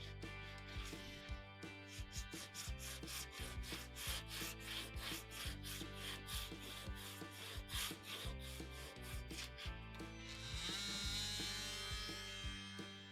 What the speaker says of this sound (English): I just got a bit of 80 grit sandpaper and did it by hand